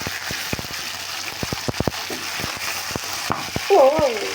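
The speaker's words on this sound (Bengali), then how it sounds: "মাছ তো দেখতে গেলে খুব সাবধানে ভেজে হবে মাছের পিসগুলো" Pieces of magur catfish fry in hot oil, giving a steady sizzle broken by sharp pops and spatters, with a brief clatter near the end.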